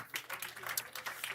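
A church congregation in Reykjavík claps after worship songs. Quick, faint, uneven applause from many hands, with a voice speaking under it.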